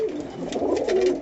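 A single pigeon of a bred fancy breed, kept in pairs in a home loft setup, gives a short, close, soft cooing call that rises and falls for about a second.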